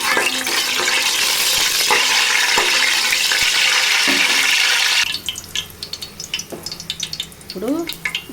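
Fenugreek seeds hitting hot oil in a pan for a crab curry, a loud broad sizzle that fills the first five seconds, then drops to quieter crackles and scraping stirs, with a brief voice near the end.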